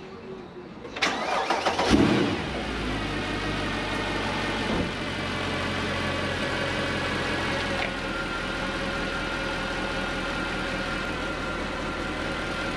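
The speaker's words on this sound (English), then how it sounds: "hopefully start the car" A Mercedes W204 C63 AMG engine cranks briefly, catches, and settles into a steady idle, fairly close and alone.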